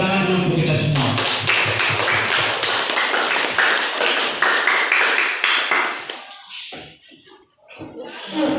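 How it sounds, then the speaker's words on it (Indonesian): Schoolchildren clap their hands in an Islamic religious studies class, a dense burst of many small hands that thins out and trails off toward the end, with a few scattered claps returning. "Beri tepuk tangan dulu untuk kita semua."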